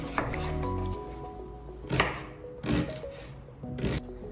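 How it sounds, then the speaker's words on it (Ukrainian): Several sharp knife chops dicing onion on a board, with pauses between bursts, over faint background music. "Цибулю нарізаю кубиками звичайними"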